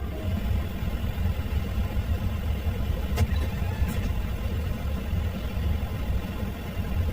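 Steady broadband aircraft engine roar during mid-air refuelling, loud and continuous throughout with a deep low rumble and no talk.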